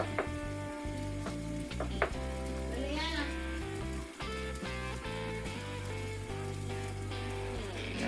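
Steady sizzling and crackling of chopped corned beef frying in a pan, continuous and close, with music playing underneath.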